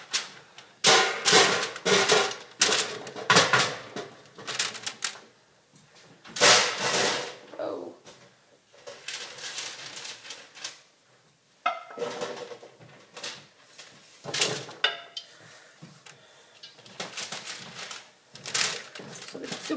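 Roasted cauliflower pieces clatter and tumble onto parchment-lined metal cookie sheets in bursts of scraping and tapping, close and fairly loud, with people talking throughout.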